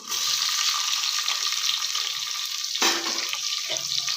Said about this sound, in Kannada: ಇವಾಗ ಕಟ್ ಮಾಡಿಟ್ಟಿರೋ 2 ಈರುಳ್ಳಿ ಹಾಕ್ಕೊಳ್ಳೋಣ